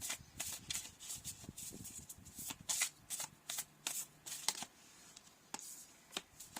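Tarot cards are shuffled by hand at a table, giving repeated crisp riffling bursts with brief pauses between them. The shuffling is close and fairly quiet, with no talking over it.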